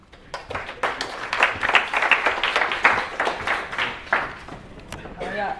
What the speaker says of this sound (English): Another applause for this very informative talk.